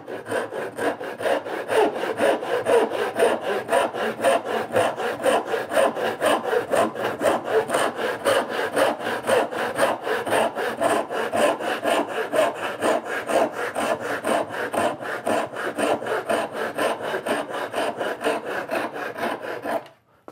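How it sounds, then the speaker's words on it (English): Hand saw crosscutting wooden stock for joinery: fast, steady rasping push-and-pull strokes that repeat evenly and close for about twenty seconds, with no talking. "So I cross cut,"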